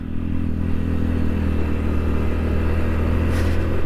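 A motorcycle engine drones steadily at close range on a winding mountain road with hairpin bends, a continuous low rumble with some wind and rattling, no voices.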